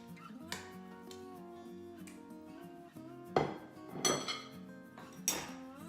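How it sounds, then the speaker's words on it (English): A beef roast is set back into a cooking pot, making three separate metallic clinks and knocks, close and moderately loud, over a steady tonal background. "I'm going to place my roast back inside the pot."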